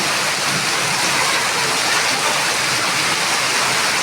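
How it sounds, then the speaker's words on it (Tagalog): Dense, steady rush of heavy rain pouring without pause during Typhoon Enteng, a loud broadband hiss filling the whole span with no voices. "Grabe, ang ulan eh. Walang humpay pag-ulan"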